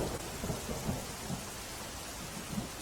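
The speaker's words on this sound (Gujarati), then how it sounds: "બાયડના ગ્રામ્ય વિસ્તારમાં ધોધમાર વરસાદ વરસ્યો છે." Heavy rain pours down in a rural area of Bayad, Aravalli, Gujarat, as a dense, steady hiss, with soft low rumbles of thunder underneath and no voices.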